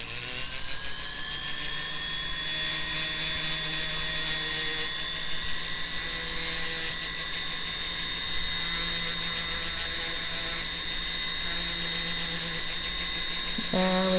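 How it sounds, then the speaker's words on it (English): A small sanding bit on a Foredom rotary tool cleans the backs of enamel champlevé circle earrings, giving a continuous high whine with a steady buzzing drone and slight pitch shifts as pressure changes. "I'm going to just use a little sanding bit"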